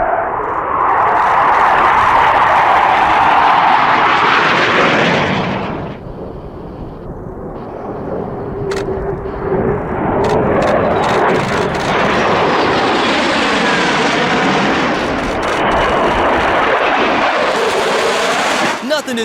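Airplanes fly low past spectators, producing a loud, roaring engine pass that swells and then fades, followed by a crowd-like rumble and a second broad roar building again near the end.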